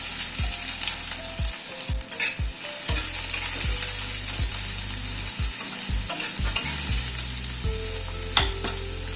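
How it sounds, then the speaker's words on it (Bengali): Chopped onions fry in oil with cumin tempering over a medium gas flame, a steady bright sizzle running throughout, broken by repeated scraping and stirring knocks of a utensil in the pan. "গ্যাসের ফ্লেমটাকে মিডিয়ামে রেখে পেঁয়াজটা হালকা করে একটু ভেজে নেব"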